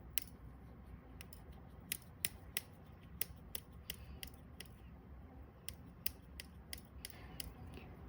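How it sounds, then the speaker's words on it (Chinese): Side cutters or wire snips clipping cylindrical solder for soldering earring posts at a metalsmithing bench, giving a series of sharp, short snaps spaced irregularly over a low steady background hum, close and fairly quiet. "我就會用像這樣子的斜口鉗，或是像這樣子的線剪來剪焊藥"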